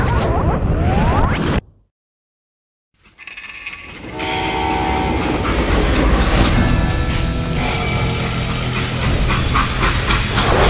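A train in the Western video game Call of Juarez: Gunslinger thunders loudly, cuts to a second of silence, then returns with heavy rumbling, clattering wheels and a whistle or horn.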